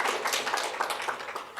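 A dense patter of audience applause at a tech talk on service meshes, steady and fairly even across the short stretch, with no voices over it.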